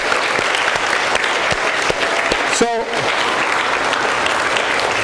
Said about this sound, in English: Let's give them a round of applause for being there for you